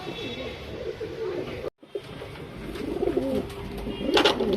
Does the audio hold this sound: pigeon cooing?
yes